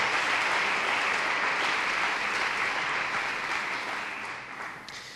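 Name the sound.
congregation applause as an offering to God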